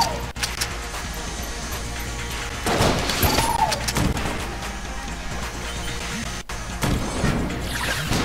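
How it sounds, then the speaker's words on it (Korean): RPG rocket launcher fire and explosive blasts in a robot shooter video game, a dense, loud barrage of crashing booms and impacts layered over constant combat noise. "자, RPG 한번 써볼까?"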